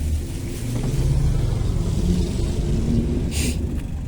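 Cars drive along a flooded road beside the overflowing Mun River, a continuous low engine rumble passing close by with a steady roadside wash of noise and no talking.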